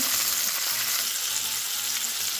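Loud, steady frying in a pan, a dense hiss and crackle of vegetables and sugared apples cooking in fat up close, with faint stirring.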